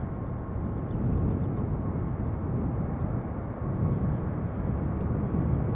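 A 24-year-old United Airlines Boeing 777-200ER jet bound for Houston takes off at Schiphol, its engines a loud, steady, broad roar that holds with little change throughout.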